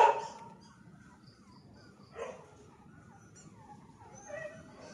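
Dogs bark and yip at a distance on a Philippine house-and-lot property. The calls are faint and scattered, with a brief whine near the start, over a low outdoor hum.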